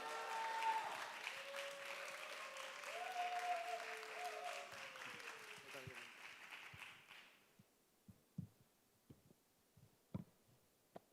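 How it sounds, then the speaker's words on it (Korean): Congregation at a Sunday youth worship service applauds to welcome a guest speaker, a dense, loud clapping that fills the space for about seven seconds, then dies away into a few scattered claps and small knocks. "우리 뜨거운 박수와 할렐루야로 맞이하겠습니다"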